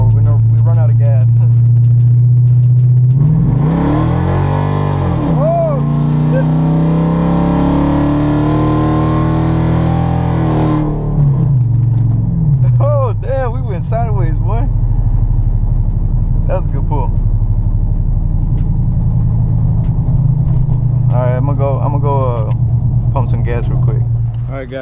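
A cammed truck's engine revs hard during an acceleration pull, rising and holding loud for several seconds before dropping back to a lumpy idle, heard from inside with someone talking over parts of it.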